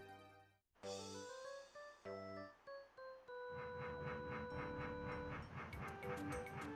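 Train in the Paper Mario video game, a chugging rhythmic game sound effect with hissing bursts and a tonal whistle-like music layer, steady and close.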